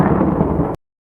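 Thunder sound effect: a loud, continuous low rumble of thunder alone, dense and booming for most of a second before cutting off abruptly into silence.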